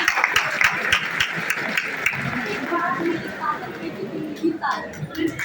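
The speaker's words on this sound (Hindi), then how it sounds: "एक बार मेरी मम्मी के लिए जोरदार तालियां।" An audience at a B.Ed college event in Gaurichak, Patna applauds, with a burst of claps at the start fading into sustained clapping under crowd chatter.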